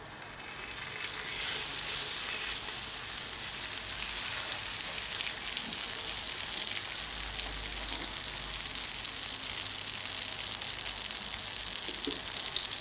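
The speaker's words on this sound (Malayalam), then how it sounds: "നമുക്കൊരു പാൻ വെച്ചെടുക്കാം. അതിലേക്ക് 1 ടേബിൾ സ്പൂൺ ബട്ടർ ചേർത്ത് കൊടുക്കുക." Butter and oil heating in a pan for home-made chicken mandi, a bright steady sizzling hiss that swells after the first second and keeps on evenly, close and fairly loud, with no voices.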